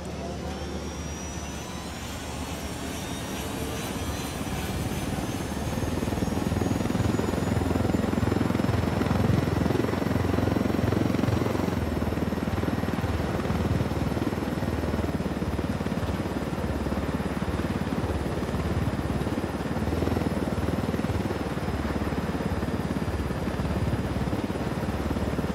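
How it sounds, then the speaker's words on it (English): Helicopter in the video game Ghost Recon Wildlands, a steady rotor-and-turbine drone with a high whine that swells after takeoff and then holds loud and continuous for about twenty-five seconds. "Nothing like swiping a helicopter to bring a day into focus."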